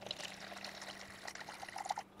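Rainwater pours into a container while 280 grams are weighed out for a family flower soap recipe, a soft trickling fill that rises into a brief gurgle near the end, quiet and close.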